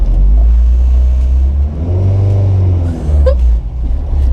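A Honda Civic EG hatchback engine revs while driving, a loud steady rumble that rises in pitch and settles, filling the cabin.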